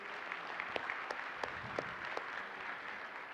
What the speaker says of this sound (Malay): Saya nak abang dan kakak-kakak semua bagi tepukan yang gemuruh sekali kepada tim saya